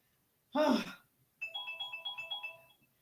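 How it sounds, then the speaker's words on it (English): A mobile phone rings with a bright, evenly pulsed electronic ringtone of about eight beats, clear and close, following a short burst of voice. "Hear my phone?"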